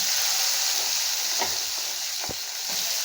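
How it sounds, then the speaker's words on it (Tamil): Chopped radish sautéing in oil in a pan for sambar, a steady loud sizzle with a few soft stirring scrapes, no voices. "இதையும் நல்லா வதக்கி விடலாங்க."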